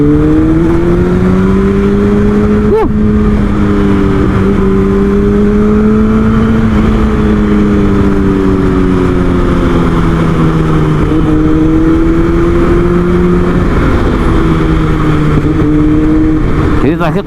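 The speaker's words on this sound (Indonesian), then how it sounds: "Udah lama banget nggak saya tarik ini motor sampai meledak-meledak belakangnya." Kawasaki ZX6R (ZX636) motorcycle engine rising and falling through hard revs, loud and close throughout with a steady droning tone, one sharp crack near the start that could be an exhaust pop, and someone talking over it.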